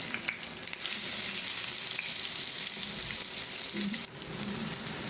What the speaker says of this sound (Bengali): এখন কিন্তু এগুলো খুবই মুচমুচে করে ফ্রাই করা হয়ে গিয়েছে